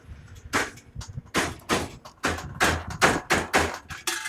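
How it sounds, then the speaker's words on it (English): The drive chain on an electric mini-truck skips teeth, making a run of sharp, close clacks and knocks that repeat in an uneven rhythm. "Yeah, it's skipping teeth bad."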